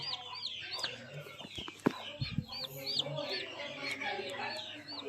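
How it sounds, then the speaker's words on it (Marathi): Desi hens clucking repeatedly with chirping chicks and other fowl calls, a busy village farmyard chorus with a couple of brief knocks. "तुम्ही पाहू शकता आपली ही एक कसरी कोंबडी आहे"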